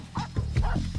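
A dog gives a few short, soft barks and yips in quick succession, fairly close but not loud, with nothing else competing.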